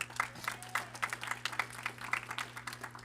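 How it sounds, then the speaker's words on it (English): Audience applause at a church live-streamed service, a steady patter of many hands clapping with a constant low hum underneath. "So, clap it up for him."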